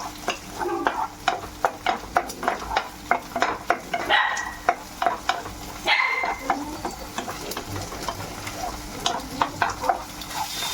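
Masala mixture fries in a pan while a spatula scrapes and taps in a quick, regular rhythm, with soft sizzling underneath, close and fairly loud.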